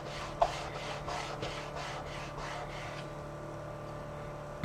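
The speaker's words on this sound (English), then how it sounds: "push the edge of your page into that crease, and then burnish down when you're happy" Rhythmic back-and-forth rubbing as a paper page is burnished down into a valley fold crease, about eight close, soft swishing strokes, then quiet.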